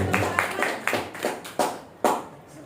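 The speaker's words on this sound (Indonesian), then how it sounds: "tepuk tangan untuk semuanya" Scattered audience clapping at the close of a school dissemination session, a handful of distinct, fairly loud hand claps spaced irregularly with short decaying gaps between them, not a dense ovation.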